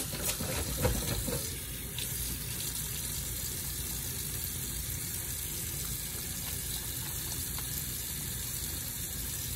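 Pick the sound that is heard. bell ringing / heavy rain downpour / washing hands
washing hands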